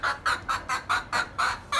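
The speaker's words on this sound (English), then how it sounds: "chickens are too noisy" Chickens on a home fish farm cluck loudly and close by in a steady run of about eight rhythmic, evenly spaced calls with no one talking.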